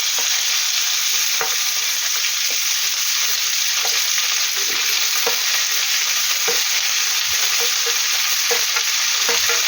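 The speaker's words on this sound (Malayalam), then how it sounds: "വെളിച്ചെണ്ണ ഒന്ന് ചൂടായി വരുന്ന സമയത്ത് അരിഞ്ഞു വെച്ച കോവയ്ക്കയും ചെറിയ ഉള്ളിയും കൂടി അതിലേക്ക് ഇട്ട് കൊടുക്കുക." Chopped ivy gourd and shallots fry loudly in hot coconut oil, a constant close hiss broken by regular ticks and taps of stirring throughout.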